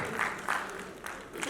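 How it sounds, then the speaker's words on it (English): Applause from a conference audience after a speaker's tribute, a steady patter of many hands lasting the whole moment, moderately distant and fairly faint, with no voices standing out. "he deserves a loud round of applause for that"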